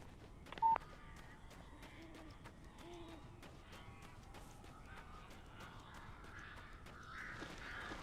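Crows caw in Alan Wake, several rough, scattered calls set against a dim, rustling game ambience, with one brief sharp tone near the start and faint noise building toward the end.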